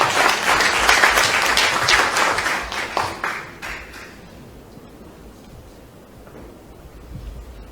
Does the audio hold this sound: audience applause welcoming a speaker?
yes